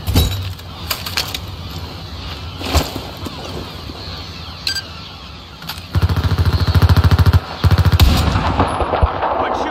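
Gunfire in Battlefield 4 on the Baku map: scattered single shots and bursts early, then loud, rapid automatic fire in two sustained stretches near the end, with battle noise throughout.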